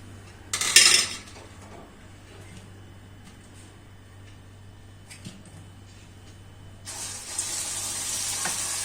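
Fried vadas drop from the oil into water with a quick splash, followed by a long quiet stretch, then running water hissing steadily at the end.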